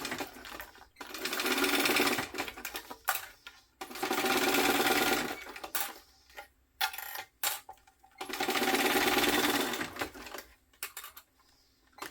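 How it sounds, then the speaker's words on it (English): Sewing machine stitching down the sides of a fabric clutch along the seam allowance, running in three long bursts with short pauses between, close and steady. "We're now going to sew down the sides per the seam allowance in the pattern."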